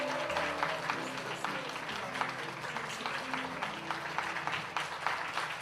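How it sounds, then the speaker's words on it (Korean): A congregation gives sustained applause at an award presentation during a church graduation service, with steady clapping from many hands at moderate distance, a faint hint of voices underneath, and a low hum beneath it. "큰 박수 부탁드립니다."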